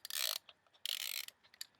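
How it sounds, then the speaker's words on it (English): A Kodak Brownie Starflash camera's film winder clicks and ratchets in two quick bursts, then a faint final tick, close and crisp in an otherwise quiet room. "if I wind it, you hear sort of a click"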